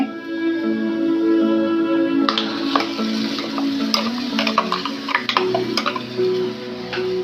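Ground masala paste hits hot oil tempered with spices for a Marathi surmai fish-head curry, a steady sizzle with scraping stirs and small clicks, close up, alone apart from a soft tonal background.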